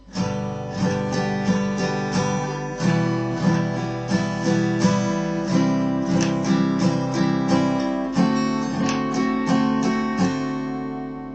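Acoustic guitar strummed in steady chords, bright and full, with a regular rhythmic pulse and occasional chord changes, close and alone with no voices.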